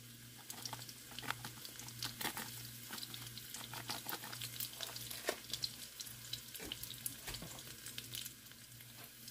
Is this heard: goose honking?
no